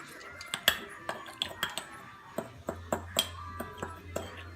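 A stirring utensil mixes sugar and half a teaspoon of cinnamon in a bowl for a bread pudding topper. It makes a quiet, irregular series of light metallic clinks and taps, close by.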